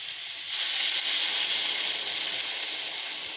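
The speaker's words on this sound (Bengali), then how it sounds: "এখন দিয়ে দেব জল।" Water is poured into a hot pan of potato and pumpkin masala for a crab and pumpkin chachchori, and a loud, steady steamy sizzle hisses up at once and keeps going.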